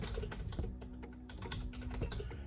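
Fingers type quickly on a computer keyboard while entering a payment method name in a WordPress WooCommerce shop setup, a dense run of close, crisp key clicks with a few heavier keystrokes.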